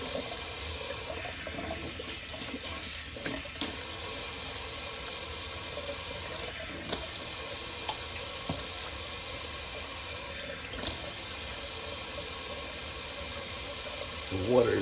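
Cold water runs from a tap into a sink during a wet shave, a steady close rushing with a few clinks and shifts in the flow and no talk.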